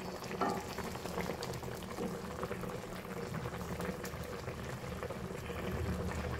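A pot of fish curry bubbles away at a steady boil, a dense continuous simmering hiss and burble that stays close and even throughout, with no voices.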